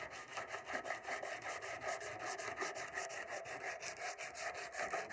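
Hand sanding with 40-grit paper over high-build primer on the body of a '71 Chevelle makes fast, even back-and-forth scratchy strokes in a steady rhythm, fairly quiet and with no talking.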